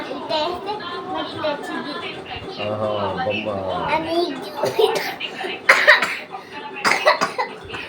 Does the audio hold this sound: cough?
yes